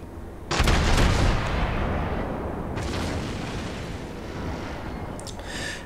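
A World of Warships salvo from the Atlanta cruiser erupts in a loud booming gun blast, followed by a rumbling, sustained roar and a second burst of fire, with no talking.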